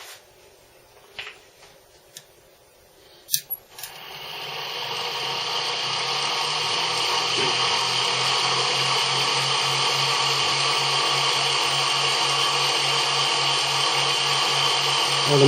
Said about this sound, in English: Well, the motor started up